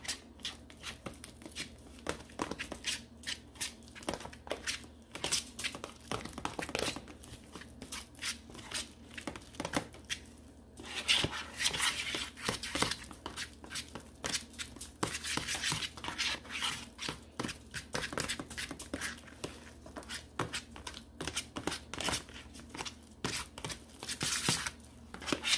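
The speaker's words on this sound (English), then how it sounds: "And I'm just mashing all this together." Deviled egg filling mashed together in a bowl, giving soft, irregular squishing and scraping taps against the bowl that continue steadily and fairly close with no talk.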